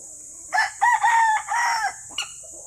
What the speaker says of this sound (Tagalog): Isang manok lang namin ang nandito.